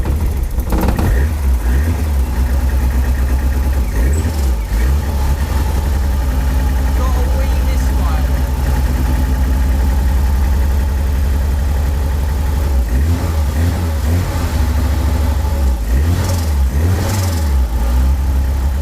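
An MNR kit car engine fires up for its very first start and keeps running, a steady low idle with a few revs rising and falling, loud and close, with people talking over it.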